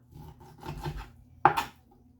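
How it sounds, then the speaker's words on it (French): A knife cuts meat on a board for Antillean soup, giving a few soft scraping strokes and then one sharp knock of the blade hitting the board, close and fairly quiet with no voice. "On commence par découper sa viande."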